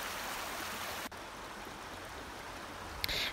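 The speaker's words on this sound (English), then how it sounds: "The rapids are really pushing here, as you can see, but still the cold temperatures keep the river freezing." River rapids rush past ice on a cold, partly frozen river, giving a steady, close broadband roar of water with a brief knock partway through and a short higher splash near the end.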